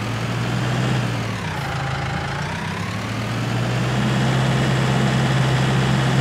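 Tractor engine in Farming Simulator 19, a steady loud droning hum that holds a constant low pitch, rising slightly in loudness toward the end, with no talk.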